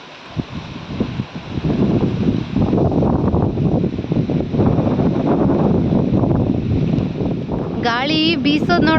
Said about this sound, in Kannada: ಗಾಳಿ ಬೀಸೋದು ನೋಡ್ತಾ ಇದ್ರೆ ಮಳೆಗಾಲ ಶುರು ಆಯ್ತೇನೋ ಅನ್ನೋ ಥರ ಫೀಲ್.